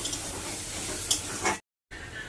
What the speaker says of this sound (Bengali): এই মশলাটাকে এবার ভালো করে কষাই করে নেবে